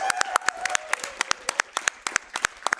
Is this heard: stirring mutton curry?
no